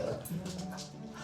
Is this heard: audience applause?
no